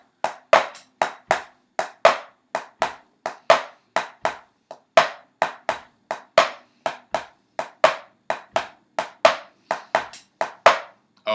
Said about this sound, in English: Now I'm going to play four measures of a swung eighth note pattern.